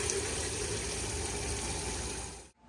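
Water running steadily from a tap inside a converted bus while its hot water heater is tested, a close, even hiss that cuts off abruptly near the end.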